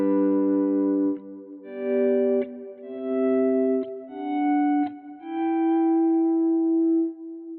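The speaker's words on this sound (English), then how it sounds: "we're going to combine the second Echosystem preset with the second reverb preset" Guitar played through combined Empress Echosystem delay and Empress Reverb presets rings out as sustained, shimmering notes, each new note blooming over echoing tails into a dense, pad-like wash that swells and lingers.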